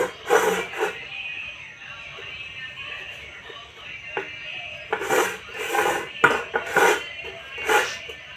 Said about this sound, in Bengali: এই ছুরি দিয়ে আমি এইভাবে 4-5টা প্রথমে কেটে নেব।